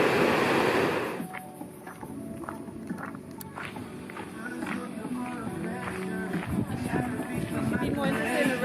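Strong ocean surf breaking along a beach where surfers are out, a broad washing roar loudest in the opening second and then continuing steadily beneath voices and nearby activity.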